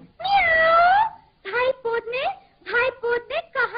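A cat meows in a Hindi-Urdu children's story: one long, drawn-out meow, then a quick run of shorter, close meows in an uneven rhythm.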